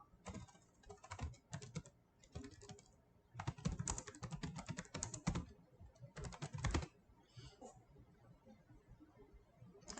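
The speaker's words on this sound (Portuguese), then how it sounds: "Então você vai digitar lá" Someone types search terms on a computer keyboard, a close, loud run of rapid key clicks in bursts with short pauses and a few faint scattered taps near the end.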